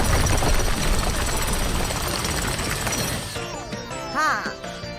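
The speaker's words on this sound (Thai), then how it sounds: "นายกำลังเจาะรูกำแพง" Loud rattling drill bores a hole through a wall on a cartoon rescue truck, a dense steady grinding for about three seconds before easing into softer mechanical whirs and a brief rising whine.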